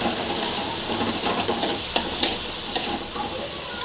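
Bitter gourd pieces sizzle and fry in a hot pan while being stirred, a steady close hiss broken by a few sharp scrapes and taps of the spoon.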